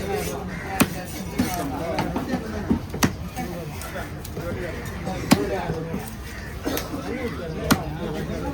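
Knife chopping through Rangoon fish at a busy Kasimedu fish-cutting stall, sharp thwacks landing irregularly every second or so amid steady crowd chatter and voices nearby.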